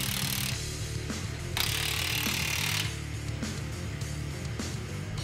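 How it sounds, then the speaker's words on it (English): An impact wrench hammers U-bolt nuts tight on a Ford Raptor full-floater rear axle housing, running in a continuous loud rattling buzz with a harsher, louder stretch in the middle, close-up in a workshop. "Tighten them evenly with an impact wrench."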